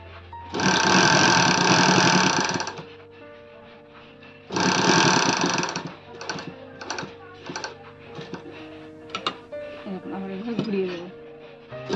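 A sewing machine stitches a triangle-neck nightie, with two long, loud runs of rapid whirring followed by short, stop-start bursts and clicks as the fabric is turned.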